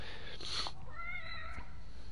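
A cat in a PS4 video game meows once, fairly faint, over a low background hum, followed by a softer tail of game sound.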